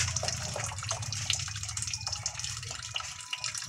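Water bubbles and churns steadily in a pot at a rolling boil, a close, continuous hissing gurgle with no talking.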